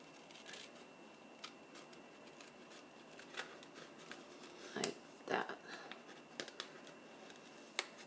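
Scissors cutting a small scoop into a handmade paper bag for a junk journal: quiet, sparse snips and crisp paper clicks, close by, with soft rustling in between.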